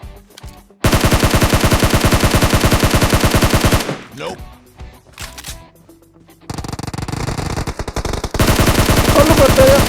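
Automatic weapon fire in the mobile game PUBG Mobile, long rapid bursts of loud close gunshots separated by brief pauses and shorter volleys, with no talk over the shooting.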